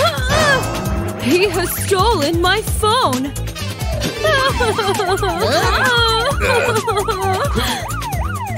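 In a children's cartoon, a police car siren wails loudly and steadily throughout, rising and falling over a driving music track while a voice speaks.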